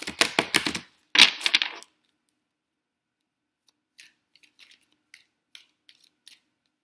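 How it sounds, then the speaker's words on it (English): Cards from a Saints and Angels oracle deck are shuffled and drawn, two bursts of riffling and sliding card sounds up close, followed by faint scattered flicks and taps of cards being handled. "let's pull a couple more cards from the Saints and Angels Oracle deck"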